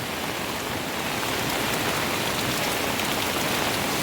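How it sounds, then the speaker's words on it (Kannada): Rain falls steadily on a field as runoff water streams across the ground, a dense, continuous wash of noise that stays loud and even from start to finish with no voices. "10 ನಿಮಿಷ ಆಯಿತು ಅಷ್ಟೇ ಮಳೆ ಬಂದು ಈ ಥರ ನೀರು ಬರ್ತಿದೆ"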